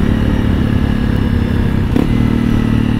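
A 2022 Honda CRF300L motorcycle with a Yoshimura RS-4 full exhaust idles and revs steadily, loud and close, with a rough, rumbling exhaust tone throughout.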